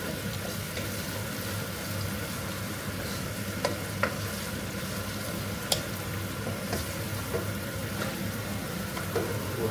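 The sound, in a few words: garlic and ginger paste frying and being stirred in a pan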